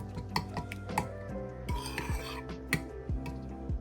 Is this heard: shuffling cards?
no